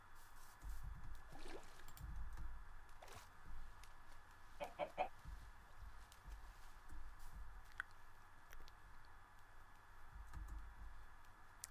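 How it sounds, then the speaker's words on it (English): Short, scattered clucks from a Minecraft chicken, fairly quiet, over a steady background hum with a few soft clicks between calls. "I think that's a chicken there."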